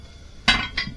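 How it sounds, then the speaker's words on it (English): A cast iron cooking pot set down on a medium-sized cooker ring: one heavy metallic clank followed a moment later by a second, lighter knock, close and alone in a quiet kitchen. "And now you need your cast iron cooking pot. and put it on one of your sort of medium-sized cooker rings"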